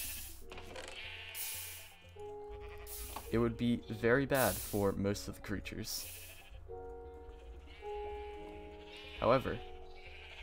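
Sheep on a tiny island in a video game bleat several times, with a loud cluster of bleats near the middle and another near the end, all under steady narration.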